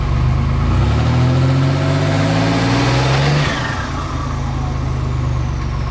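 A GMC Syclone truck engine held on brake boost roars loud and close, its pitch climbing steadily before dropping off as the revs fall.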